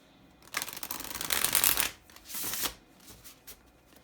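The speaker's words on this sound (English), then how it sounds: "Called to do one more shuffle," A deck of new, slightly stiff tarot cards is riffle-shuffled close up, a dense rising flutter of snapping cards followed by a shorter second burst and a few soft taps, with no talking.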